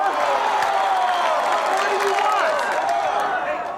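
Studio audience at an infomercial for the HomeRight PaintStick roaring together, a dense wash of cheering, clapping and shouting that holds loud and steady for a few seconds.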